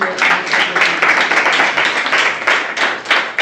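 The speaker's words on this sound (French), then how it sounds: "nos sponsors méritent un grand applaudissement" A crowd applauds with steady, dense clapping that carries on evenly for a few seconds, fairly loud and close.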